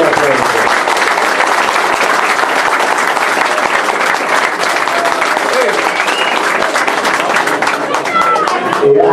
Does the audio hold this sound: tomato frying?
no